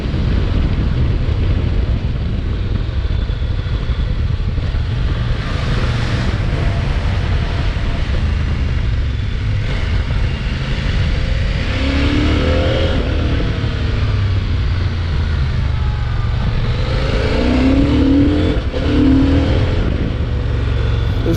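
A 2024 CFMoto IBEX 800 T adventure motorcycle ridden at low speed around a parking lot, its engine a steady loud drone under heavy wind rumble, with a few swells of revving as the throttle opens.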